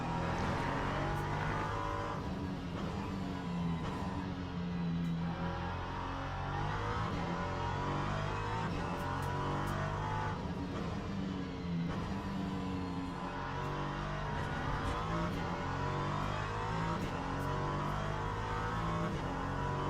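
A race car engine drones steadily through a final lap, loud and continuous with shifting pitch as it accelerates, and a brief hint of tire squeal; no voices.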